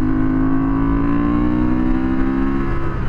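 Honda Transalp 750 motorcycle engine revving steadily and loudly up close, a sustained droning tone that climbs slightly in pitch over a few seconds during an on- and off-road ride.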